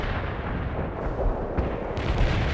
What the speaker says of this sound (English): You have incoming artillery again, Romanov.